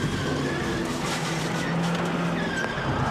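NASCAR stock car wrecking at the Brickyard 400, heard from the onboard camera: a loud, continuous engine roar with skidding tire noise close up throughout.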